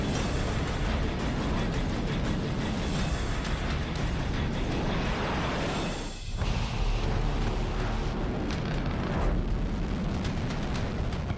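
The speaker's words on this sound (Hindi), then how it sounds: "जमीन पर आग का गुबार छोड़कर आसमान की गहराई में गुम हुई इस मिसाइल" North Korean missile launch as a continuous loud roaring rush of rocket thrust, dense and steady for the whole stretch, with a brief dip and shift in tone midway.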